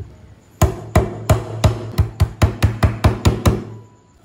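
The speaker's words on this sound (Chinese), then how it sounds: "接着准备一块姜，把姜拍扁。" A piece of ginger being smashed flat on a cutting board while preparing braised pork trotters, about eleven loud, sharp thwacks in a quick, fairly even rhythm, close and with no speech.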